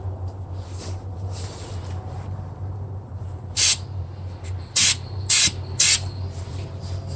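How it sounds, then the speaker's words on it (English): Four short bursts of aerosol spray paint hiss over a low steady hum, close and loud, with brief pauses between them, coating a 1965 Mustang front valence. "I'll spray a little right there just so you can see how it sprays."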